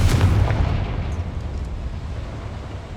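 A Confringo fire spell explosion in the video game Hogwarts Legacy: a loud, deep boom at the start that rolls off into a long rumbling decay.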